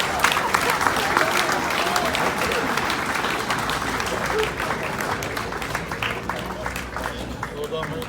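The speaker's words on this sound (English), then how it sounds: "Keep the applause going." Loud, sustained audience applause fills the whole stretch at a hot rod and custom car show awards ceremony at a racecourse, steady dense clapping with crowd murmur and occasional voices underneath.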